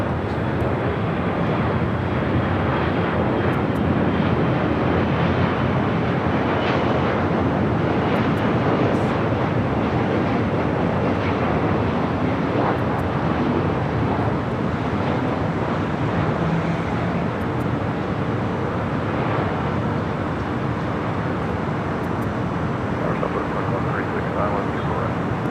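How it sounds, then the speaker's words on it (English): A WestJet Boeing 737-800 arriving from Vancouver at LAX, heard as a steady, broad jet roar with wind buffeting that holds for the whole stretch, while voices talk over it. "WestJet Flight 1698 coming up from Vancouver, 737-800 next arrival here on the north side"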